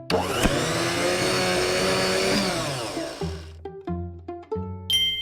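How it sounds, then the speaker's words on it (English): A blender whirs loudly while making a smoothie in a kids' educational video game, a steady motor roar that winds down after about three seconds, followed by a few bright chime-like game tones. "You blended a smoothie."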